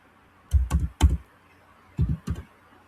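Short bursts of typing on a computer keyboard, a few close, crisp key clicks clustered in two quick groups with a pause between, otherwise quiet.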